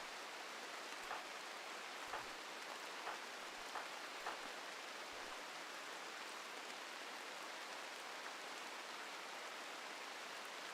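Steady rain in the RimWorld colony game falls as a dense, even hiss with a few faint soft drops standing out, playing alone without talk.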